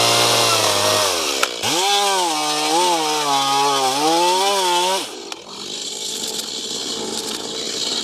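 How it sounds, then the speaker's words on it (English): A chainsaw revs hard and plunges into a timber fence post for a strainer brace assembly, the engine pitch bogging and wavering under load for several seconds before backing off to a rough idle, loud and close with no talk. "we're just going to sit the saw on here, plunge that in, tidy up any side edges"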